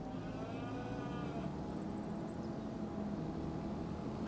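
Cows moo in a Farming Simulator 25 dairy and cattle pasture, with long low lowing calls that carry steadily through the whole stretch over a constant farm background, no one talking.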